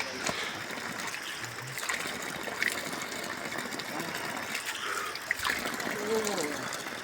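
Water flowing steadily at Sundarijal, a continuous rushing trickle close by with scattered voices talking over it.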